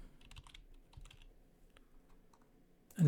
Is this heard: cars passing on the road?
no